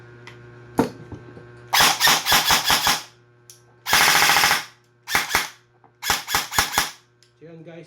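An EC 332 airsoft rifle under repair test firing in loud, sharp bursts of rapid shots, a single pop first, then several full-auto strings separated by pauses, with a faint motor whir at the end.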